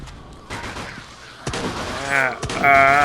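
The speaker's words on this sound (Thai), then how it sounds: "ด่านนี้ให้เรายิงถังระเบิดให้ซอมบี้มันตายทั้งหมด 10 ตัวนะฮะ" In the zombie shooter Unkilled, shots hit explosive barrels, and sharp gunshot cracks are followed by booming, rumbling blasts that swell toward the end. They sound loud and close.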